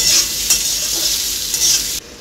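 Ginger-garlic paste fries loudly in a pan for khichuri, a dense hissing sizzle punctuated by a few stirring scrapes before the sound drops off abruptly near the end.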